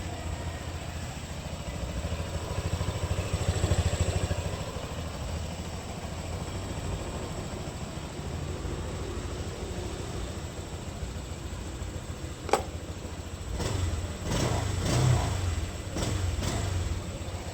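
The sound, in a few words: motorcycle engine running after dead battery recovered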